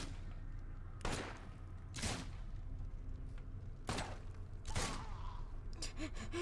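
Gunfire in The Sinking City video game: four loud, sharp shots at irregular intervals over a low background rumble.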